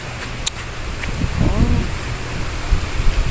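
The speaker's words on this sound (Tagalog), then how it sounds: "Medyo malakas pa rin ang ulan, ang hangin" Strong rain and gusting wind outside a house give a steady broadband wash with wind rumble that rises near the middle. A few brief knocks sound close to the microphone.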